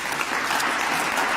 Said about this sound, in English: The audience can applaud now if they so choose.